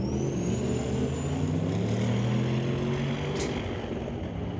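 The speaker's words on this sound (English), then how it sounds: "So Matt Black now in a 1994 Jeep Cherokee." A 1994 Jeep Cherokee at a drag racing qualifying event, its engine a loud, sustained drone with rising tones as it pulls hard down the strip, heard steadily from start to finish.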